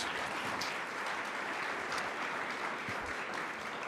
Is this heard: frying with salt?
no